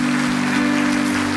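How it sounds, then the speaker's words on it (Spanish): Dense, continuous applause from a large church congregation, loud and steady throughout with no voices standing out. "Dale un fuerte aplauso al Señor."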